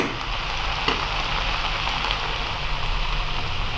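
Vegetables frying in oil for a festive Bengali pachon dish, a steady broad sizzle that runs unbroken throughout, close and fairly loud, with a faint crackle near the start.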